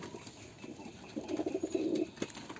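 Giribaj pigeons coo softly in a dim pigeon farm, a low rolling coo repeated close by over faint background rustling.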